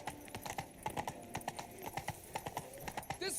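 The horse Roach galloping in The Witcher 3: Blood and Wine, a rapid, steady run of hoofbeats with a brief whinny near the end.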